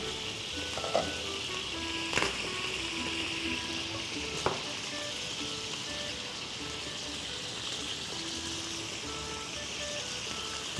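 Okra sizzles steadily in a frying pan with wine nearly cooked off, a constant broadband hiss with a few soft clinks and stirring knocks, close and even, no one speaking.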